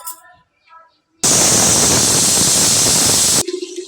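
A pressure cooker on the stove lets out a loud, steady whistle of escaping steam, a dense hiss that lasts about two seconds and cuts off sharply, with brief quiet talk before it and after it.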